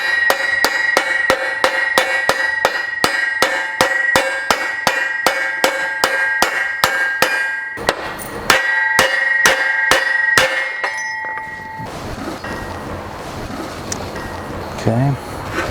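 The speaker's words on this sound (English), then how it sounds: "when I hammer it in, I'm not trying to just hammer it in one shot" A hammer taps a trailing arm bushing into a Chevy or GMC truck in a rapid, regular series of sharp metallic strikes, pausing briefly, then fading as someone talks over the work.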